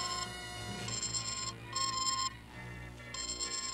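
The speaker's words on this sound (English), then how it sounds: "They sounded the alarm." An alarm blares in the 1979 animated Godzilla series, a loud electronic ringing tone pulsing in repeated bursts with short gaps, alone without voices.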